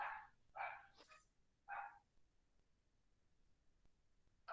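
A dog barks several times nearby in a quiet room, three or four sharp barks in quick succession at the start, then another after a pause, with a last bark beginning at the end.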